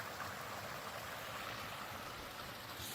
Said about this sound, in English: Fed by little waterfalls.